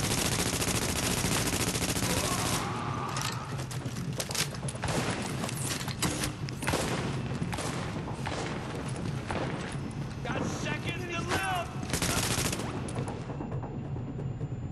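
Rapid bursts of gunfire and sniper shots from the video game The Division crackle loudly and almost without a break, with a voice talking over the shooting throughout.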